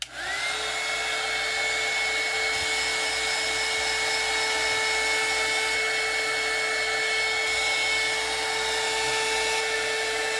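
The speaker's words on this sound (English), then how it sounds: "I'm gonna try to dry her with this heat gun a little bit and see how she looks then." A heat gun blowing on a doll switches on with a brief thump, then a loud, steady whine and rushing airflow carry on without pause.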